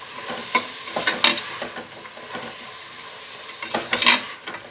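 Field beans (avarekalu) frying in a little oil, a light steady sizzle with repeated scraping stirs of a spoon against the pan, clustered in bursts.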